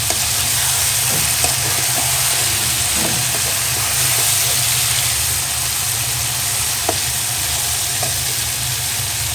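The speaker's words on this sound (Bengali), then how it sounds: "এখন এখানে কোয়েল পাখি ডিম, জিরা, কলিজা এগুলো দিয়ে দিলাম।" Quail eggs, liver and cumin fry in a pan with a constant, dense sizzle and a low hum underneath, broken by a few faint clinks.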